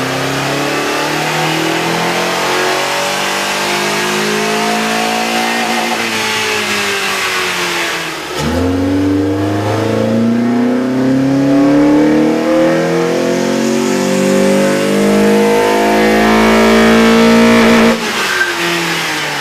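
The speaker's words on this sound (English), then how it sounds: "we ran the vehicle on the dyno to test the sound comparison versus the stock intake" A Honda Accord 2.4-litre engine fitted with a K&N air intake revs hard on a dyno, rising in repeated loud sweeps with a brief drop between pulls, close and continuous with no talk.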